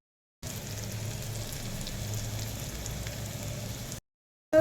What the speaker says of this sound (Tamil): இப்போ வந்து ஆனியன் வந்து நல்லா ஃப்ரை ஆயிடுச்சு